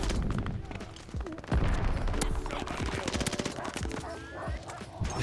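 Rapid automatic gunfire from a Sten submachine gun in the shooter game Call of Duty Vanguard, sustained loud bursts with short gaps, a voice talking faintly underneath.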